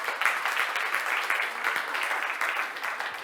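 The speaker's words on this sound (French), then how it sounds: "On les applaudit encore." An audience at a panel discussion on the connected hospital of the future keeps up a steady wash of clapping, fairly soft and somewhat distant, sustained evenly from start to finish.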